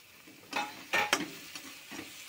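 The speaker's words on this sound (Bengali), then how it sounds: "গ্যাসটা একটু বাড়িয়ে মশলাটা আরও একটু কষিয়ে নেব" Spice masala for begun dorma fries in a pan and gets stirred. Faint sizzling is broken by a few sharper scraping strokes spread over two seconds.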